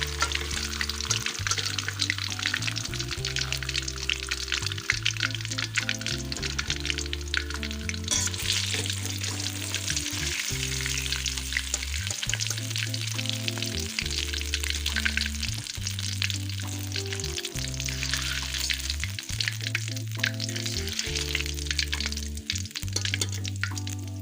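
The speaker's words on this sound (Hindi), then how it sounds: "ये अब हाफ फ्राई हुई है।" Spicy fish fries in oil with a constant bright sizzle and crackle, while rhythmic low background music plays underneath throughout.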